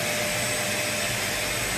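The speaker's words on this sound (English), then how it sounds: "what we call a rough sander" A small angle grinder fitted with a rubber sanding pad works a sash window as a rough sander, giving a steady, continuous whine with broadband grinding hiss, close and sustained throughout.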